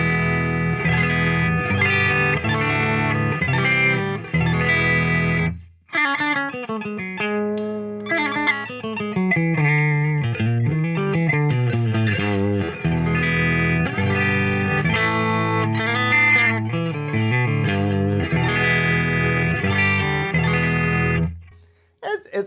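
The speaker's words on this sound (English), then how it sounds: "let's get a clean tone sound out of it" Kramer Baretta Special electric guitar played with a clean tone, strummed chords and single-note runs ringing out steadily, close and fairly loud, with a brief pause midway.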